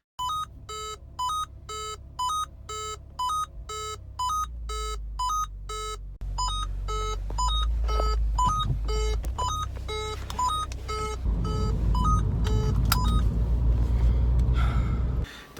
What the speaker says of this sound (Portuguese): faz um barulho irritante quando você anda sem cinto com esse carro. Ele fica plim, plim, plim, plim